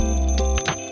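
A budget ₹300 classic-design alarm clock ringing, a loud, bright sustained metallic ring that cuts off partway through, followed by a couple of short clicks, close and alone.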